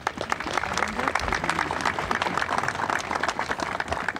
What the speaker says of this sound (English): So please help me give her a round of applause, too.